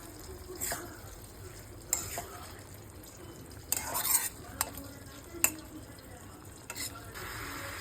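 A spoon scrapes and taps around a pan in scattered strokes, stirring raw mango chutney over a faint, steady sizzle close by.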